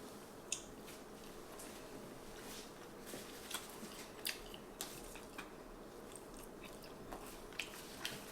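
Someone chews a small piece of carnivore noodle, an egg-based noodle, giving faint, close, soft squishy bites and chewing clicks at an irregular pace over quiet background hiss.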